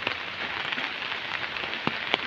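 Heavy rain mixed with drizzle under dark, stormy skies, a dense continuous hiss with occasional sharper drop impacts standing out, no voices.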